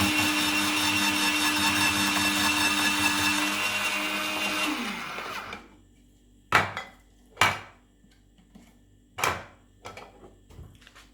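A Silvercrest SGR 150 electric grater runs with its yellow cylinder cutting onions, a steady loud whirring motor drone that winds down around five seconds in, followed by a few sharp knocks and clatters in near quiet.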